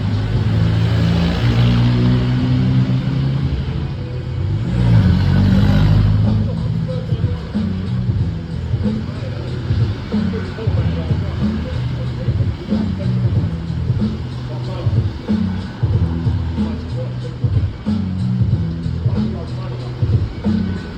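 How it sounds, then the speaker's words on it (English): Buses and a motorcycle passing along a rain-soaked street in Pattaya, Thailand: a continuous rumble of engines and wet road noise with a swell of passing vehicles, heard under someone talking. "of course buses are coming by now. Motorcycle."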